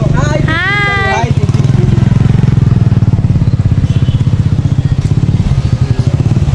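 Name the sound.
motorcycle ride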